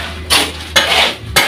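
Workers mixing flooring mortar by hand, giving three distinct scraping, gritty strokes of tool against the wet mix, each swelling then cutting off, fairly close and loud with no talk.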